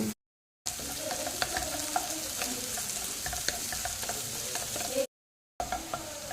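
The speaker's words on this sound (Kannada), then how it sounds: "ಇವಾಗ ನೀರುಳ್ಳಿ ಫ್ರೈ ಆಯಿತು" Onions frying in a pan in a home kitchen, a continuous bright sizzle with scraping stir clicks, close and fairly loud, broken by two short silent cuts, no voices.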